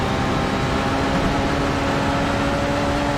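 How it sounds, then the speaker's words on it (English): Onboard engine of an Audi diesel race car in a racing video game at the Daytona 12 Hours, a steady, dense droning hum with a constant tone, holding level and loud throughout with no talk. "I like the sound of the Audi, the diesel."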